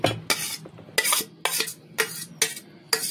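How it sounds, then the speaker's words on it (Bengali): Egg being stirred into dough for gola roti in a bowl, giving a steady rhythm of sharp scraping and clinking strokes about twice per second, close and fairly clear with no talking. "এবার ডিম দিয়ে এগুলোকে গুলে তারপরে গোলা রুটি করব।"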